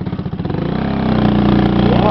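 A Lambretta scooter engine drones close and loud while it is ridden, starting with a putting rhythm and then revving into a steady, rising buzz.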